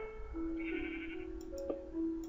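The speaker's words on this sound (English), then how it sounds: "I see a sheep down there." A sheep in the Minecraft video game gives a short, nasal bleat with a wavering pitch, fairly close and clear, followed by a couple of faint ticking clicks, with no talk over it.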